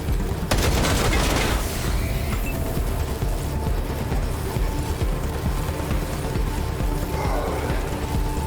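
Gunshots in Wasteland 3, a loud sharp shot near the start followed by a booming crack and rattling battle noise that continues under dense, busy combat sound.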